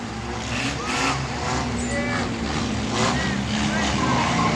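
A pack of demolition derby cars drives around a track, engines droning and rumbling at a steady, moderate loudness while a commentator talks over them.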